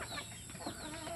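Chickens cluck softly in short, close bursts while pecking feed from a person's palm, a brief low murmur of fowl sounds with no talking.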